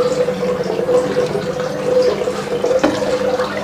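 Salt is stirred into aquarium water, giving a steady, continuous swirling and sloshing with a faint hum beneath, no voices.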